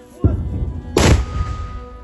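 Two sharp, loud gunshots about three-quarters of a second apart on a frontline position, each a sudden broadband crack with a rumbling tail, close by.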